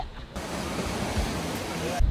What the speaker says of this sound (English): The waves are so like extreme now